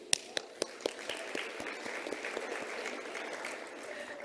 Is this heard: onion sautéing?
no